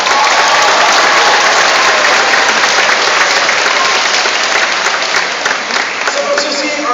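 An audience at the Shedd Aquarium's Pacific white-sided dolphin show bursts into loud, sustained applause, a dense wash of clapping that fills the space and tapers only slightly.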